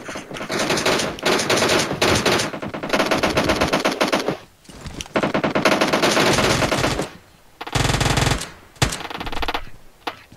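Rapid automatic gunfire from the battle royale video game PUBG, loud bursts and long sustained volleys with short gaps in between, filling most of the stretch with no voices.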